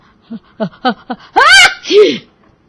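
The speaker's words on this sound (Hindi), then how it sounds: "अचानक उसे एक जोरदार छींक आई" One loud, close sneeze bursts out after a few short breathy intakes, the sharp explosive release followed by a brief falling vocal tail.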